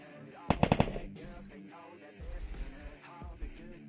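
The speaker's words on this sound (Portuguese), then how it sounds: "Eles estão trocando tiro ali." Rapid bursts of automatic gunfire from a firefight in the Free Fire battle royale game, a tight cluster of loud shots followed by more scattered, softer shots under game music.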